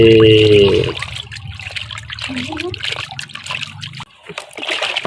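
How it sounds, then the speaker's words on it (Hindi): Water splashes and trickles over a rabbit being bathed in cold water, steady dribbling and splatter close by after a brief opening voice, continuing for several seconds. "ठंडी पानी में नहाएगा"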